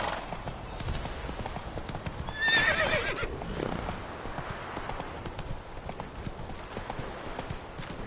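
Roach, Geralt's horse in the game The Witcher 3, gallops in a steady rhythmic clip-clop of hooves, with a clear neigh rising briefly near the start over a soft ambient bed.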